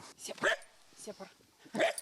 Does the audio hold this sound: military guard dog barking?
yes